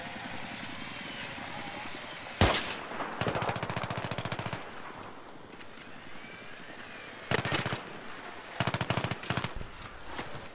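Gunfire from a shooting video game comes in several loud bursts of rapid automatic fire, separated by gaps of quieter ambient noise.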